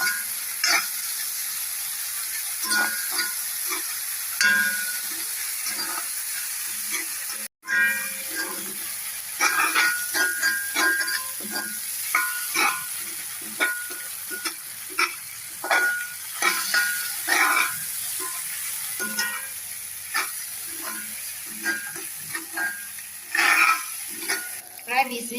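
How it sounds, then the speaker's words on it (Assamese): Papaya pieces and goat mutton with turmeric, coriander and cumin powder sizzle steadily in a pan, with frequent scraping and clattering of stirring strokes over a constant frying hiss. "এনেদৰে অলপ সময় ভাজি লওঁ।"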